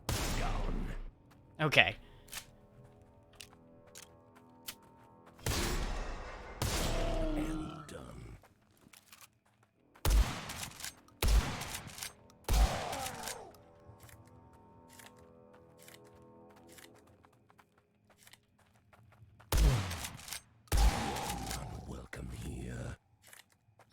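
Gunfire with silver bullets against a Vendigo in a video game: several sharp, loud shots burst out in clusters amid heavy combat noise and roaring, with a person briefly speaking.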